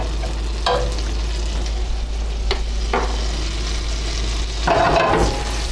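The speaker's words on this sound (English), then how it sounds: "now we've still got the hot pan. I'm going to add just a little bit more butter to that." Butter sizzles steadily in a hot pan after pork has cooked, a close and continuous frying hiss with a few clinks and stirring touches.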